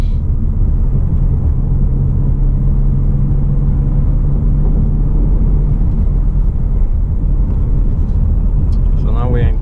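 A 2017 Ford Mustang cruises in fifth gear, giving a steady, loud low rumble of engine and road noise inside the cabin that continues without a break.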